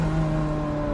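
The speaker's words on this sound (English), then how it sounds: "You can play the engine almost like a musical instrument" Ferrari F430 Scuderia 16M V8 engine with accelerator-activated resonators, droning steadily and loudly with a strong tonal note, close up and with no talk.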